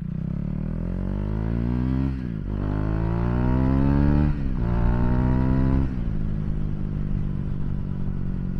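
A KTM Duke 390 motorcycle engine revs up repeatedly from a lumpy idle, with three rising throttle blips that climb and drop back, loud and close with no speech.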